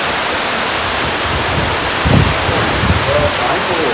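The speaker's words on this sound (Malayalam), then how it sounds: "നല്ല മഴയല്ലേ" A heavy, constant downpour hisses without pause, with faint voices briefly surfacing beneath the loud rain.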